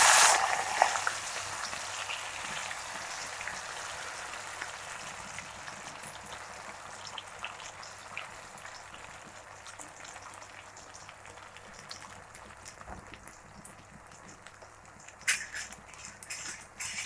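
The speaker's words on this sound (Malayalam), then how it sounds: "ഇനി നമുക്ക് എണ്ണച്ചട്ടി അടുപ്പിൽ വെച്ച് വറുത്തെടുക്കുന്നത്." Food frying in coconut oil in a deep oil pan on a stove, a steady, fairly quiet bubbling sizzle that slowly softens, with a few brief clatters near the end and no voices.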